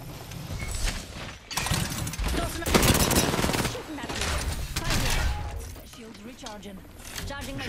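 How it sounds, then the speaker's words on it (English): Dense automatic gunfire in Apex Legends, shots shattering through windows in long rapid bursts that go on nearly the whole time, loud and busy with a voice talking over it. "Shooting us through the windows."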